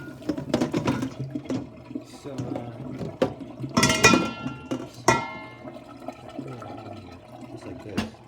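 Boiling water poured into a plastic water bottle, splashing and gurgling liquid with sharp crackles and bursts mid-clip, a voice speaking briefly alongside.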